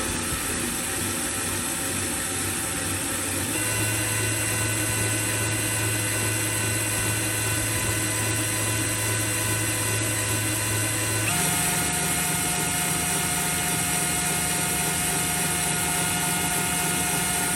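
A loud, continuous hammer drill whine drones throughout as it drives a fluid transfer pump, its pitch stepping up twice as the speed changes, with no talking.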